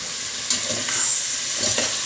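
Mechado stew cooking in a pan, giving a steady close hiss of sizzling with a couple of brief stirring scrapes and no talk.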